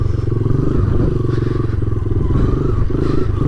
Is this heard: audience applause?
no